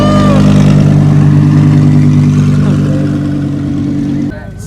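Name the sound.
car engine revving at car meet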